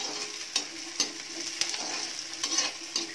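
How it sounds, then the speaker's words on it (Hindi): Onions going light brown in a pan fry with a steady hiss, broken by several sharp scraping strokes as they are stirred at an even pace, close and with no talking. "ये हमारा प्याज अब हल्का ब्राउन हो चला है, थोड़ा सा और भून के"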